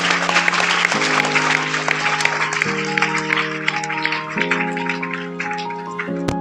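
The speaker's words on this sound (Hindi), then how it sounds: "तालियां आपके लिए।" An audience at a school motivational seminar in Badarwas, Madhya Pradesh, claps in a dense, sustained patter, with held musical tones that step between pitches running underneath.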